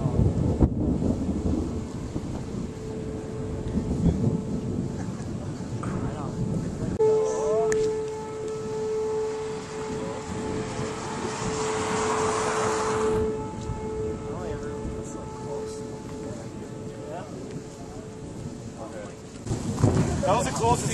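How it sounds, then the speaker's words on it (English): Thunder from a very close lightning strike during a storm in Mankato, a heavy rolling rumble beneath a steady siren wail, with excited voices talking before and after. "That was the closest lightning strike I've ever been to."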